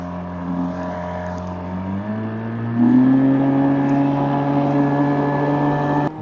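A small engine mounted on a giant paddle board fishing skiff runs on open water, droning steadily and then rising in pitch as it revs up and holds a higher, louder tone before cutting off abruptly.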